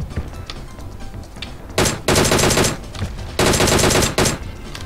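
Automatic gunfire in PUBG Mobile comes as two loud, sustained bursts of rapid shots, close and dense, with a short gap between them and quieter game ambience around them.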